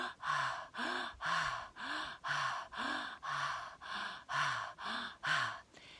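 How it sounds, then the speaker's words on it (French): Forceful mouth breathing for activation, about eight rapid breath cycles in six seconds, each a sharp breathy rush with a gasping edge, recorded close and alone. "C'est une respiration qui se fait avec la bouche."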